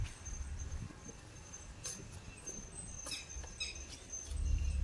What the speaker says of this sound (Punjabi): ਚਿੜੀਆਂ ਇਹਨਾਂ ਚ ਹੈਗੀਆਂ